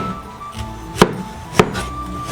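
A knife dicing winter melon into small cubes for winter melon tea, three crisp, separate chops landing on a cutting board at an even pace, close by and with no voices.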